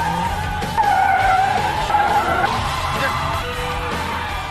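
A racing car drifts hard in an anime scene, its tires squealing in long, loud wavering skids as the engine roars, continuous and close throughout.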